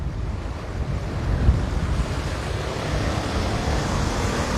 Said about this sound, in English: It's really windy. I'm not sure if you guys are hearing it.